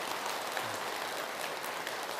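Audience applause at a Buddhist temple lecture, a steady dense clatter of many hands clapping together, sustained and even throughout with no talk over it.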